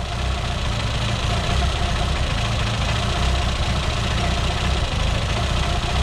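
A car engine idling roughly and steadily, close up, a dense continuous mechanical rumble with a slight shaky knock throughout.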